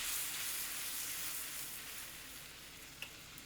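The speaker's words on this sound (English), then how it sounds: "Put some butter on one side of the bread and place it on the skillet" Buttered bread sizzling on a hot skillet for a Reuben sandwich, a steady close hiss of frying fat that fades slightly, with a faint tap near the end and no talking.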